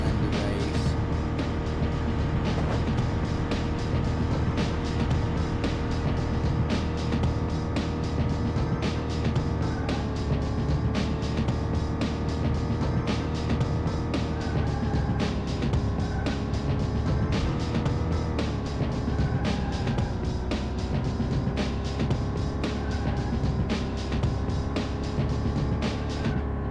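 Racing car engines in the video game Beetle Adventure Racing drone continuously and loudly, the tone rising and falling slightly as the race goes on.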